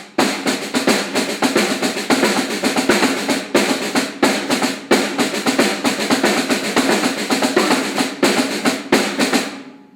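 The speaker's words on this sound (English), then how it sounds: "So on 2 snare drums, it would sound like this." A 7/16 rhythmic pattern played on two snare drums, dense rapid strokes with regular accents repeating in a tight cycle, loud and close with no talking, ending abruptly.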